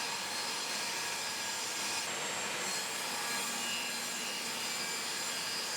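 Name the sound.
cutting a dado in wood with multiple passes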